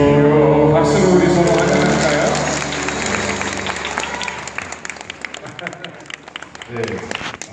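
Applause from a church congregation during a pastor's talk, loud and dense at first with a musical tone underneath, then thinning into scattered claps that fade toward the end.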